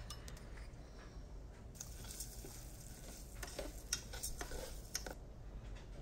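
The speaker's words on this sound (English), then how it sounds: "Always keep the rice stirred so it doesn't burn." Rice being stirred in a pot on the stove gives soft scraping and light clinks of utensil against metal over a low sizzle, with a few sharper knocks near the end.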